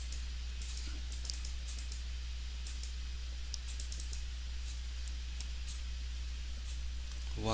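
Faint, sparse clicks and taps from a computer keyboard being typed on, a few quick keystrokes scattered over a low steady hum.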